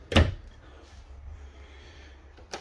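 A full-extension drawer in the kitchen of a 2019 Grand Design Reflection 337RLS RV slides with a sharp knock near the start, then after a quiet pause a second brief thump sounds at the end.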